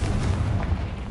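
Confringo blasting spell explosion in the Hogwarts Legacy video game on PS5, a dense, continuous low rumbling boom filling the whole moment with no talk over it.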